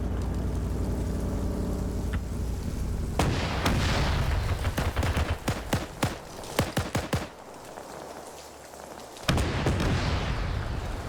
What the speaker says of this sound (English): Now the Sherman's firing at him.